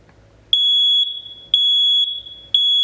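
A home smoke alarm sounds after its test button is held, giving three loud piercing high beeps about a second apart, each holding briefly then cutting off, close and alone.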